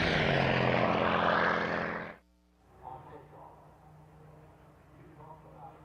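Aerobatic airplane at the SUN 'n FUN airshow, its propeller engine roaring loud and close, then cutting off abruptly, with a quieter, more distant engine drone and crowd noise carrying on afterward.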